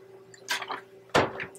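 Liquid poured from a jar holding a preserved sample in ethanol, two short splashy pours a moment apart, close and moderately loud with no talk.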